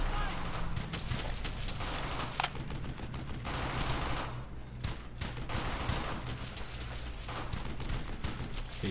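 Dense, continuous machine-gun bursts and rifle fire in the World War II shooter Brothers In Arms: Hell's Highway, loud and rapid with only a brief lull midway, while voices speak underneath.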